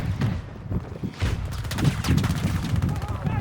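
Gunfire in Battlefield 2042, rapid bursts of shots crackling over battle noise, with pauses between volleys and players talking over it.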